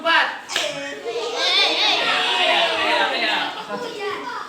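Schoolchildren in a classroom clap together in a counted 'tepuk 4' routine, a burst of sharp claps followed by chattering young voices and a child singing or calling out over the room.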